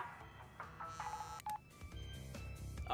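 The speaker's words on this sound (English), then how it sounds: "Oh, it's just silly Coco. Her phone" Coco's phone in the video game Crash Bandicoot 2 gives off short electronic beeps and dial-like tones, faint and quick, over soft game background sound.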